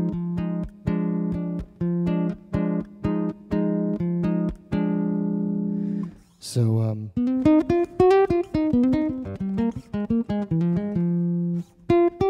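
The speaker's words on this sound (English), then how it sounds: "the top three strings are really more of a nylon string guitar" Nylon-strung upper strings on a custom six-string half-fretless, half-fretted bass-guitar hybrid, plucked in a steady run of bright notes with a strummed flourish midway, loud and close, followed by quicker melodic picking.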